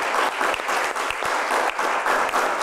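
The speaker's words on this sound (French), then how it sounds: "Je veux un tonnerre d'applaudissements pour Grace Wallace." Audience applause for a fashion designer on a French stage show, a steady, dense round of clapping from a sizable crowd that holds at an even level throughout, with no talk over it.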